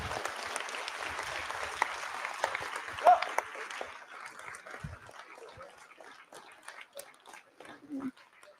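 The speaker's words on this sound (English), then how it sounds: "Give you guys all a round of applause." Audience applause for parents, supporters, mentors and coaches at a FTC robotics league qualifier rings out strongly at first, then thins to scattered claps, with faint voices and a dog briefly heard.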